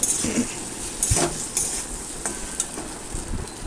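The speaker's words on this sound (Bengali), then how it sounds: "এবার নুন হলুদ দিয়ে আরও কিছুক্ষণ নাড়াচাড়া করে ভেজে নেব" Ingredients fry with salt and turmeric in a pan, a close sizzle broken by repeated scraping and knocking of a spatula against metal as they are stirred.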